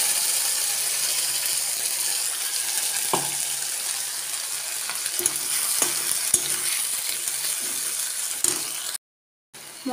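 Ground spice paste frying and stirred in a pan in a home kitchen, a continuous dense sizzle with occasional scrapes and taps of a spoon, steady and close, cutting out briefly near the end.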